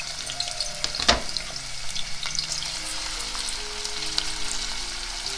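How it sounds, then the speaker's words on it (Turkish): Dry onions hissing in heated olive oil, a steady close sizzle with a few spoon clicks and faint pops throughout, loud and unbroken with no one speaking. "Isınan yağımızın içerisine şöyle kuru soğanlarımı ilave ettim."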